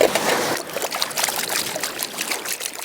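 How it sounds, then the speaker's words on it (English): Water and beach sand run through a Banjo gold pan on a Lake Superior beach, a steady close trickling and pouring wash that fills the whole stretch, with no talk. "run it through the Banjo pan, and then see if there's more in my little capture sluice here"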